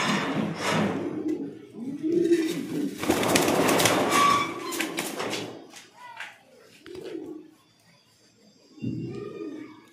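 Magpie pouter fancy pigeons coo in a loft, their low, throaty calls repeating in short bursts amid rustling and clattering, with a voice heard now and then.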